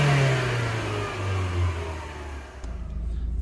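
A 2004 Rover 25 Streetwise petrol hatchback with 12,000 miles revs from idle, its engine note rising then falling back close and loud, then settling to a low idle hum.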